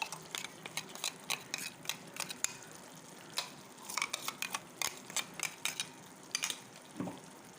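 A spoon stirs coconut paste into a simmering chicken curry in a pan, a quick series of soft scraping clicks and light clatters over a faint low sizzle, close by.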